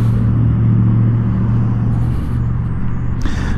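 A 2022 Zero FXE electric motorcycle accelerates on a highway with a loud, steady hum and rushing wind, and a sharp burst of noise near the end.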